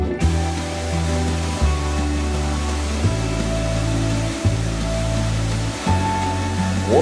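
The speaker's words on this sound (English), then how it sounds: "Waterfalls everywhere." Waterfalls along wooded cliffs in Michigan give a steady, rushing broadband roar that runs unbroken throughout, with low tonal music playing underneath.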